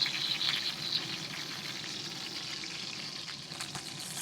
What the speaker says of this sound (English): Give that fat cap one final sear.